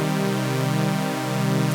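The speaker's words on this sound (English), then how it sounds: "when we play them both together, what's going to happen is they're going to kind of like wash against each other and give a richer sound" Two slightly detuned oscillators on a Krotos Concept synth pad hold a steady, sustained tone, their phasing beating gently in a continuous wash with no other sounds.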